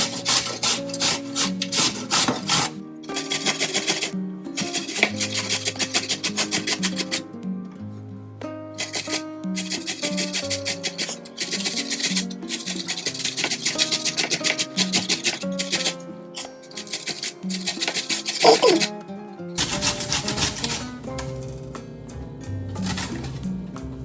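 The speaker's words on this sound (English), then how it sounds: "And I'm just going to grate up this cucumber." Cucumber being grated for tzatziki, a rapid rhythmic rasping of strokes on the grater in long runs broken by short pauses, close and fairly loud with no talk.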